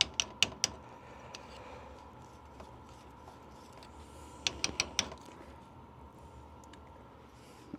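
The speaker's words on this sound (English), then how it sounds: "Now we're gonna take our other end and just chamfer around" An HVAC hand tool chamfering the end of a pipe: faint, scattered scraping clicks in small bursts, a few quick ticks near the start and another cluster later, over a quiet background hum.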